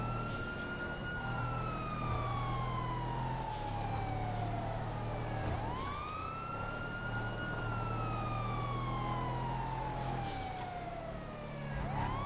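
Police sirens in the video game GTA Online, a long slow wail rising and falling in two drawn-out cycles over a steady vehicle engine drone, loud and continuous with no talk.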